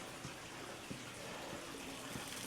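A small water feature beside a pool at a lakeside home runs in a steady, even splash and trickle, with faint drips standing out in a continuous wash of falling water.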